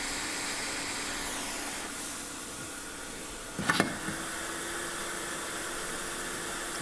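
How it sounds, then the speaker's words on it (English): A heat gun set to about 300-350 degrees blows with a steady, quiet hiss of hot air while reflowing an LED bulb. A couple of faint clicks and knocks break in briefly midway. "you can probably use a heat gun at about 300-350 degrees"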